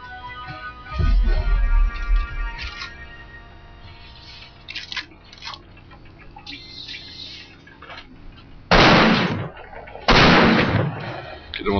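Several loud, close gunshot bursts ring out in the video game Damnation at a ghost, the strongest two landing near the end over a busy background of game sound and effects.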